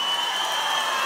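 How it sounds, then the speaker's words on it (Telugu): A crowd at a political campaign rally applauds steadily, a dense, continuous wash of clapping with no gaps and no voices standing out. "ఇద్దరు అభ్యర్థుల్ని గెలిపిస్తామని గట్టిగా చప్పట్లు కొట్టి మీ హర్షాన్ని ఆమోదాన్ని"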